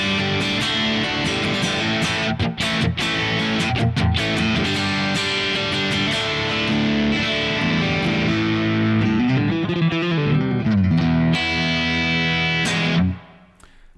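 Electric guitar through a Kemper plexi amp profile, a driven tone with lush reverb, chords and riffs played continuously, loud and close, ending with a ringing tail.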